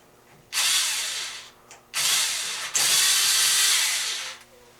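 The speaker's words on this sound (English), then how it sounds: "you're going to take these three screws out that are held in here" A power driver backs screws out of a Mustang turn signal switch, three loud whirring bursts separated by short pauses, close and with no talking.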